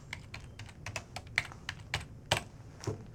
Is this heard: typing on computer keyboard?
yes